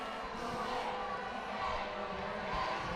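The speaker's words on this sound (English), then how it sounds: "The crowd responding to that." A roller derby championship crowd in an arena murmurs and calls out in a broad, steady roar, fairly distant, with voices mixed in.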